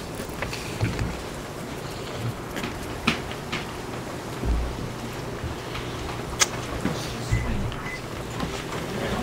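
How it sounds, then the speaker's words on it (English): Steady rain patters with occasional low rumbles and wind during a storm at sea in the pirate game Sea of Thieves, a continuous wash of sound with no talk. "we're heading back into the storm."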